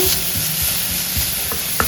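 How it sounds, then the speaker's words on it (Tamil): Close sizzling in a pan with light stirring clicks and scrapes, a steady crackle of grated ginger sautéing in oil. "இதை ஒரு வதக்கிடுவோம்"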